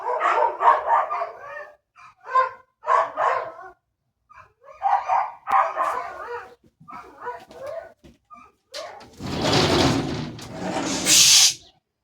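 Several dogs bark loudly and close by in a burst of repeated barks and yips, with short pauses between volleys, followed by a harsher noisy rustle near the end.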